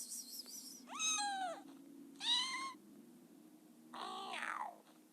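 A pet cat meows close by, four separate drawn-out meows spaced a second or so apart over a faint steady background hum.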